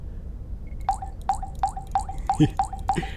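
A run of seven quick, bright bloops, evenly spaced like cartoonish drinking gulps, from a video game water-drinking effect in Wayfarer, with a brief clatter near the end against a quiet background.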